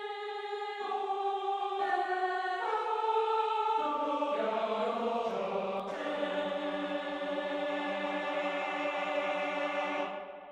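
A throaty, rustic choir from the StormChoir Ultimate sample library sings sustained, full chords that shift every second or two, one smooth unbroken passage with no talking.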